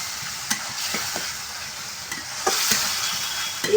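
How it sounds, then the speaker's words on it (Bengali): Masala spice paste stir-frying in a pan for fried rice, with a steady close sizzle broken by several scraping stirs of the spatula, no talk. "এরপরে মশলাটাকে ভালো করে আমি কষিয়ে নেব।"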